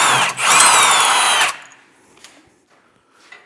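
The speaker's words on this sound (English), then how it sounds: "Take the bolt out." A power drill whines loudly for about a second and a half while backing a bolt out of a Kawasaki Ridge clutch, then stops, leaving faint clicks and small handling knocks.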